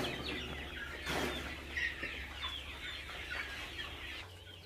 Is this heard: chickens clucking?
yes